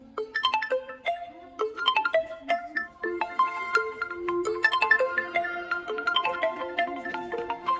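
An Oppo A3 phone's single speaker plays a bright melodic ringtone-style tune at high volume, with clear note after note and little bass, alone and close.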